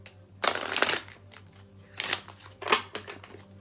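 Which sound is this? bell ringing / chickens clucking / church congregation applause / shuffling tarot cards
shuffling tarot cards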